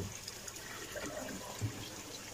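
Water overflows from one settlement tank into another in an aquaponics system, making a faint, steady trickling and rushing wash with no voices.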